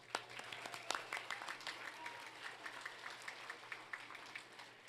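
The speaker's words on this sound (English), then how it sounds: "let's give a proper round of applause for our next presenter, President Audrey Portois" An awards-ceremony audience gives a round of applause for the next presenter, a soft, steady patter of many hands heard from a distance in a large hall.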